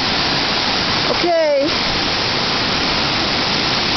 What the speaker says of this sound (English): Anderson Creek and Bear Canyon Creek are raging